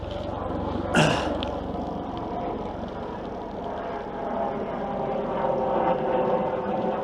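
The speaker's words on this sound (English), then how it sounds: "It's a helicopter." A helicopter flies overhead, a low, continuous engine drone with rotor-like throb in the distance, steady and moderately loud, with a brief sharp noise near the start.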